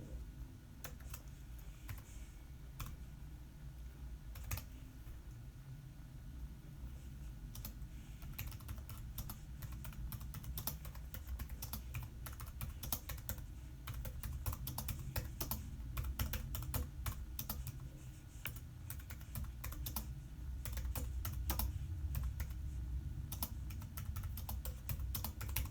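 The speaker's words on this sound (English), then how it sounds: "Sorry, I'm typing something in for somebody." Steady typing on a computer keyboard, a continuous run of quick key clicks over a low background hum, close and clear with no talking.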